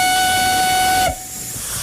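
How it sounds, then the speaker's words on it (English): A steam locomotive at Downpatrick Railway sounds a loud, sustained whistle that cuts off abruptly after about a second, leaving a softer rushing hiss of released steam. "And the steam is coming fast and furious."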